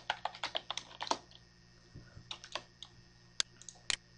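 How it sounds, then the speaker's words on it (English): Quick bursts of typing on a computer keyboard, sharp close clicks in uneven clusters with short pauses between, quiet and alone. "once you type in, I'll type in mine"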